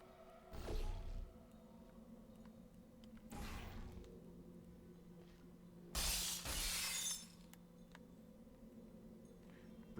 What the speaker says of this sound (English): Breaking the glass. Breaking the glass.